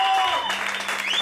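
An audience at a jazz quintet concert applauds a drummer, a dense, loud burst of clapping with whistle-like tones sliding over it.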